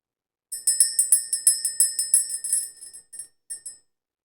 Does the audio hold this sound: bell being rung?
yes